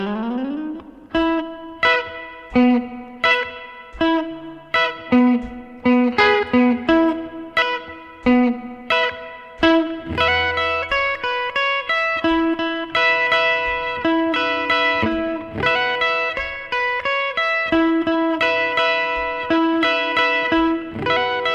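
Electric guitar plays the first verse of a surf song slowly, with punchy picked surf notes, reverb and a steady rhythm of repeated phrases, alone with no talk.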